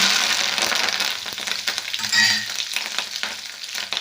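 Curry leaves hit hot oil in a tempering with red chillies and seeds for a Telugu cucumber fry, giving a loud, continuous crackling sizzle with stirring, close up and without talk.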